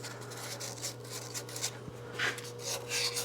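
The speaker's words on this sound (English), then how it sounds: "Just going to take a little sandpaper there and roll that sharp edge off." Sandpaper rubbing a sharp edge off a bored cylinder part from a Suzuki TS185 motorcycle, a soft close rasping in short repeated strokes over a steady low workshop hum.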